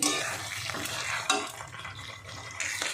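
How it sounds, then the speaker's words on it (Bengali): Mutton being stir-fried in a kadai with ground spice paste, giving a close, steady sizzle of oil with frequent scraping and stirring of a spoon against the pan, no talking. "মাংসটা কষানো হচ্ছে, তেল বেরিয়ে আসছে মাংস থেকে।"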